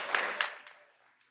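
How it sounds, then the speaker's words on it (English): Brief audience applause at a city council meeting, a short scatter of claps that quickly tapers away to quiet. "Let's give him a round of applause."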